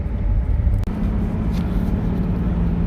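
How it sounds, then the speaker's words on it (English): A twin-turbo V6 Mustang pulls hard in second gear, its engine a steady, loud, low rumble from start to finish, with one brief dip near the start. "Alright, second gear, give her the beans"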